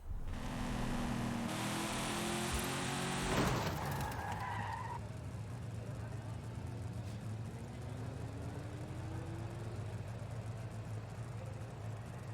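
Racing car in the Forza video game: a loud tyre skid and engine roar open the clip, with a sharp burst, then the game sound settles into a steady droning engine hum with faint rising tones.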